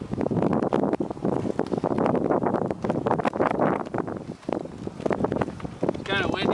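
Gusty wind buffets the microphone outdoors in a constant loud rushing roar, with a voice talking underneath, while AquaDam water barriers are being filled from hoses.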